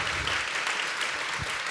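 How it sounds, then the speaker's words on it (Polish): Warm applause from an audience welcoming a professor as a guest at a discussion event, a dense even wash of clapping at moderate level with no speech. "gorące brawa."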